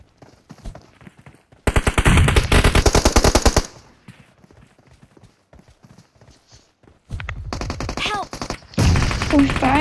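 Bursts of automatic gunfire from the video game PUBG Mobile, loud rapid strings of shots with pauses between volleys, plus fainter single shots and scattered game noise.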